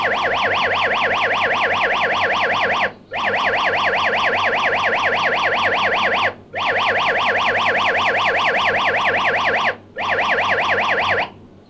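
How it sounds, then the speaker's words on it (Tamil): An Android app locker sounds its alarm after a wrong password: a loud, rapidly warbling siren-like tone repeating in long bursts with brief gaps, alone and continuous. "அந்த பாஸ்வேர்ட் சரியாக கொடுக்கும் வரைக்கும் இந்த அப்ளிகேஷனில் அலாரம் அடித்துக் கொண்டே இருக்கும்"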